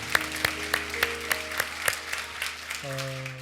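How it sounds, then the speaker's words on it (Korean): A church congregation gives a round of applause during a Sunday service, heard as a burst of claps over sustained organ-like chords, with music continuing beneath it. "우리 다시 한번 하나님 앞에 감사의 박수 올려드리도록 하겠습니다."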